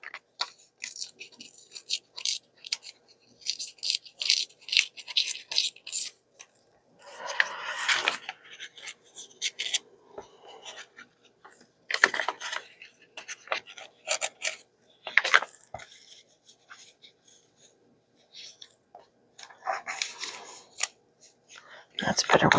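Scissors snip through book pages in short bursts of crisp cutting and rustling paper while making a craft pocket, with quiet pauses and soft talk in between.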